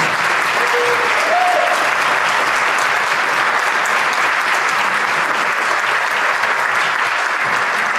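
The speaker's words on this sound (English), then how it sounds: "Let's give a round of applause." An audience at a thought leaders' talk breaks into a long, even round of applause, dense and continuous from start to finish, with a few faint voices blending into the clapping.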